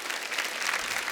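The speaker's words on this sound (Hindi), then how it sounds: "अंकिता लोखंडे के लिए जोरदार ताली हो जाए।" Studio audience clapping for Ankita Lokhande on a comedy talk show, a dense, steady burst of applause filling the whole short moment.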